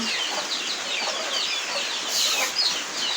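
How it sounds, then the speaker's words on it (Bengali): Farm chickens clucking eagerly for feed during rain, a busy cluster of overlapping clucks and calls, fairly close and continuous. "মুরগিগুলো পাগল হয়ে গেছে খাওয়ার জন্য"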